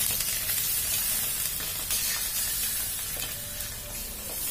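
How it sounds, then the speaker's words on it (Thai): Coconut cream frying with green curry paste in a pan sends up a continuous bright sizzle and crackle, steady and close, with slight stirring movement and no voices. "เราก็จะผัดหัวกะทิกับเครื่องแกงให้แตกมันนะคะ"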